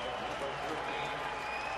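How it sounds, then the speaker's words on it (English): Baseball fans at an evening Brewers at Diamondbacks game in Arizona cheer and applaud a former Diamondback, a steady broad crowd roar with clapping, heard at a distance under a commentator's voice. "these fans will have no problem cheering a former Diamondback"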